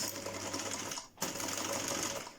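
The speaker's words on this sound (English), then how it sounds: "anytime you're top stitching or sewing around a curve, just take your time and do it slowly" A sewing machine runs steadily, top stitching fabric around a curve while sewing trousers with hip and side seam pockets, a fast even mechanical whir, close and moderately quiet, with one brief pause midway and no speech.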